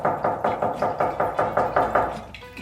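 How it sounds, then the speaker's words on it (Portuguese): A steady run of about nine firm knocks on a door in a Portuguese-language story, evenly spaced, close and clear, with no voices. "ela ouviu uma batida na porta."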